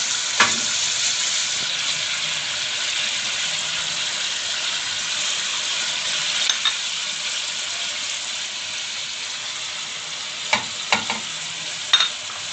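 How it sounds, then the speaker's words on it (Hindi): Chicken fries in a pan with onions and masala, giving a steady close sizzle with a few sharp pops and spatters near the start and end and no talk. "अब इसे मैं दो से तीन मिनट के लिए फ्राई करूँगी"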